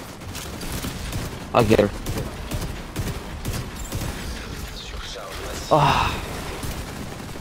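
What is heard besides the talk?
gunfire in the video game Dark Hours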